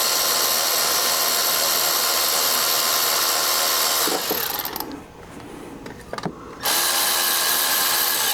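Power tool spinning bolts out of a 2007 GMC Acadia engine, a loud steady high whine that cuts off briefly for a couple of short clicks and ratchet bursts, then resumes close by.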